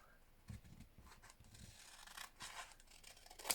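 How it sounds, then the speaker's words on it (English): Faint, quiet snips and scratchy rustles come in short bursts, like scissors trimming paper close up. "So just take your scissors and trim off"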